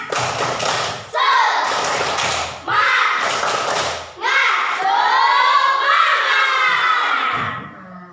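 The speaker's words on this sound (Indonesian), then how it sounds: "mari kita tepuk semangat dulu" A school class chanting and clapping the tepuk semangat rhythm together, loud children's voices with sharp group claps in several bursts separated by brief pauses, the final phrase drawn out as a shout.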